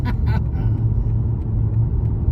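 Cars, among them a Porsche and a BMW, rumble past on a lap at a motorsport symposium event, a steady close engine drone with a brief higher whine at the start.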